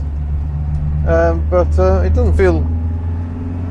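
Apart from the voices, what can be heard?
1965 Singer Vogue Series III driving around a roundabout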